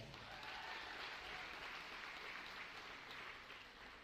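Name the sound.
applause for scholarship student athletes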